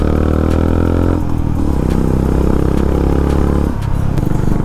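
A TVS RR 310 motorcycle fitted with a performance exhaust rides on a hill route in Uttarakhand, its engine droning steadily with a rich, throaty tone that shifts pitch around gear changes, close and loud throughout.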